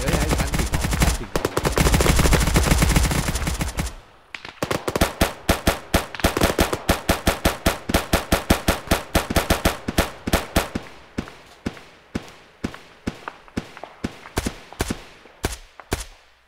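A mounted machine gun fires in the video game ArmA: a dense, continuous roaring burst, then a brief pause, then a long string of rapid, sharp, evenly spaced shots that slowly thin out, loud and close.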